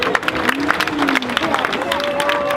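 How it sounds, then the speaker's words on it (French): Crowd applause and clapping at the opening of the Chalon dans la Rue street festival, a steady broad wash of hands and murmuring throughout, with a voice speaking over it. "Je crois qu'on peut encore l'applaudir, il le mérite bien"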